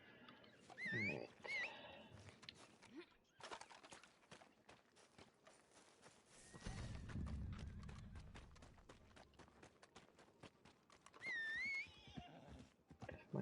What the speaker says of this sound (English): If my horse would show up, that would be fantastic.